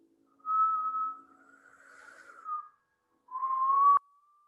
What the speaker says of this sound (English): we're going to whistle on the inhale and on the exhale